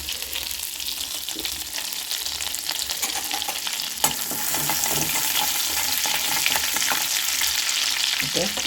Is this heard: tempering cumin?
yes